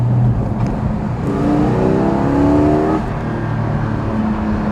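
A 2020 Porsche Cayman GT4 mid-engine revs up on the move, its rising pitch sweeping climbing over about two seconds before easing off, loud and close with no talk.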